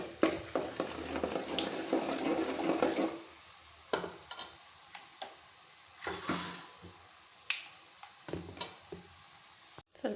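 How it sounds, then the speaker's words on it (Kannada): Pepper avalakki (flattened rice) with turmeric stirred in a pan, with a soft frying sizzle under repeated scraping strokes, busy at first and then sparser, no talking. "ಮಿಕ್ಸ್ ಮಾಡ್ಕೋಬೇಕು."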